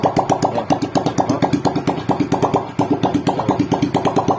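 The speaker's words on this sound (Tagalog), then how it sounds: "pinapaandar ko lang ng walang tambutso" A Honda XRM125 motorcycle engine runs with no exhaust fitted, a loud, steady, rapid popping idle pulsing close by, alone with no talk.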